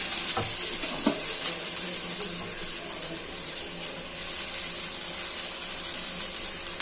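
Egg noodles stir-frying in oil with vegetables for a fast-food style dish, giving a steady broad sizzle with a couple of brief clinks and scrapes near the start and no talking.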